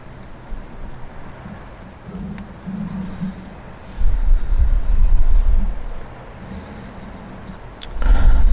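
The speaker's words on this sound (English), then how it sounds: "Here comes another vehicle." A vehicle passing on a road outdoors, a low rumble that swells around the middle, fades, then rises again near the end, with light wind and scattered clicks in the background.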